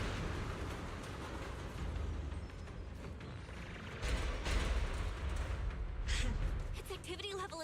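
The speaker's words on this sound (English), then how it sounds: "Explosions are becoming more frequent." Rumbling video game explosions boom repeatedly over a dense, continuous roar, with heavier blasts swelling partway through, while a voice talks underneath.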